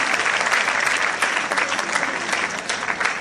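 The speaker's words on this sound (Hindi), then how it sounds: "जोरदार तालियों से मुबारकबाद देते हैं" Lively audience applause at an NGO event in India, loud, dense and steady clapping from a crowd filling the whole stretch without voices.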